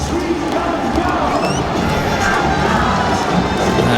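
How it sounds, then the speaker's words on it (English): Cricket stadium crowd at a T20 World Cup match between England and Sri Lanka roars and cheers continuously after a wicket, a dense, loud wash of voices and whistles with an announcer's amplified voice mixed faintly in. "crowd, the MC trying to get the crowd going."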